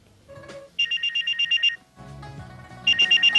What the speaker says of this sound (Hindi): ये वो आवाज है जिसे सुनकर आप हर काम छोड़कर दौड़ जाते होंगे। हम बात कर रहे हैं आपके फोन की